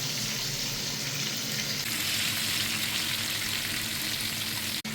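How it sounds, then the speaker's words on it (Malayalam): Water with bay leaves, cardamom and cloves boils in a pot for rice, making a steady, dense bubbling hiss close by that holds level throughout with no talking. "വെള്ളം തിളച്ച് വന്നിട്ടുണ്ട്."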